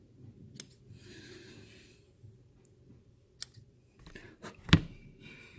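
A few sharp, isolated snips of small scissors cutting excess cotton wick while building a vape coil, close and quiet, spread out over a hushed background with no talking.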